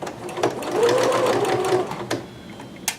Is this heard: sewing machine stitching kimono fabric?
yes